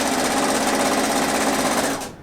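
A sewing machine stitching a sweater side seam runs in a fast, steady, close mechanical whir and chatter, then stops abruptly at the end.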